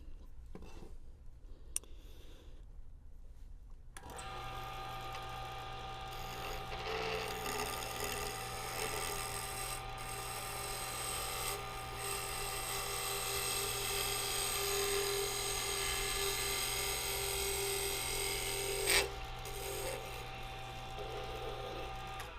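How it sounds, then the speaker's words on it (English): A wood lathe spins up and runs with a steady whine while a fingernail gouge cuts the turning, producing a continuous buzzing hiss for about twenty seconds after a brief quiet start. "I'm going to have to move to my fingernail gouge for that"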